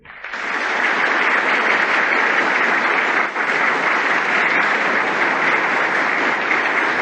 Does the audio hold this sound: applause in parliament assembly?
yes